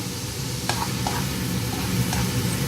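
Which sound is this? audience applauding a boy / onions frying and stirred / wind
onions frying and stirred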